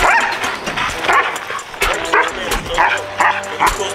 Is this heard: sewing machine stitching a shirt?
no